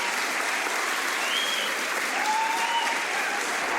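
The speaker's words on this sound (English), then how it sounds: "the more conservative members of the crowd break out in applause." Clapping from a crowd spreads evenly and steadily, a continuous hiss of many hands heard at a moderate distance, with a faint whistle-like tone rising briefly above it and no speech.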